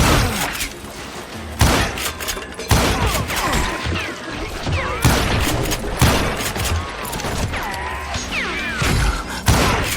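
Repeated loud gunshots crack in bursts across the stretch during a Wild West shootout in Call of Juarez: Gunslinger, punctuated by whizzing ricochets and impacts, with rapid overlapping shots between brief pauses.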